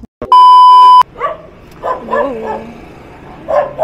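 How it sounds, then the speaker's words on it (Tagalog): A dog barks in a few short, close yips and woofs, with a brief loud electronic beep at the very start and soft whimpering between barks. "Ayan, aso"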